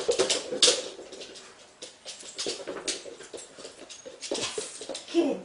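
A dog whimpers in short, thin bursts during a fetch training session, with soft scuffling and movement noises between the whines.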